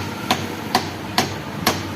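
Four evenly spaced, gentle knocks come about half a second apart as a wooden piece taps a cooler motor's bearing into place, each strike short and dull over a quiet workshop background.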